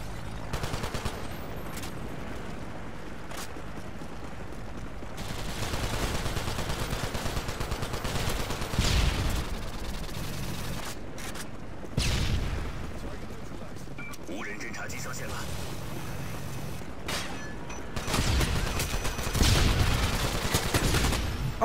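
Gunfire in the Chinese version of Call of Duty Online, bursts of shooting under dense game sound and music, with a voice talking over much of it.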